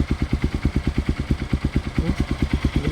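A Honda XR150L enduro motorcycle idles steadily after a cold morning start, its single-cylinder engine thumping in an even, rapid rhythm close by with no talk.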